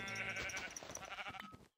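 Sheep in Minecraft bleat repeatedly, several overlapping wavering cries close by, loud and continuous until a brief silence at the end.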